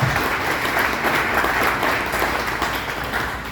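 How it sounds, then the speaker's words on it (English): Audience applause at a 5Riders and Lake Country Patriots fall kick-off meeting, a loud, continuous roll of clapping from a crowd that holds steady throughout without any speech. "Let's give them a round of applause for"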